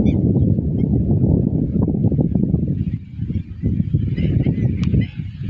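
A large flock of waterfowl honks and quacks continuously in a dense, overlapping chorus, loud and close, with some wind noise.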